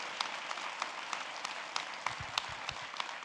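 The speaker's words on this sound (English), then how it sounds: "let's give a massive round of applause to our guests, Dr. Bell, Dr. Gilbert" Audience applause for guest scientists Dr. Bell and Dr. Gilbert after a talk, a steady wash of many hands clapping with a few sharper individual claps standing out, moderately loud and continuous throughout.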